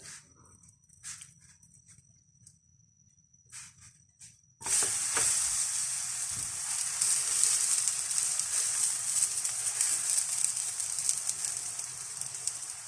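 A corn roti brushed with butter cooks on a hot griddle. After a few seconds of quiet handling noises, a loud, steady sizzle starts abruptly and carries on evenly to the end, close up and with no talking.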